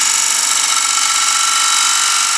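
Wood lathe spins a plate blank while a 1/2 inch bowl gouge cuts at its edge, giving a steady, loud, hissing scrape with a constant motor drone underneath, close and uninterrupted.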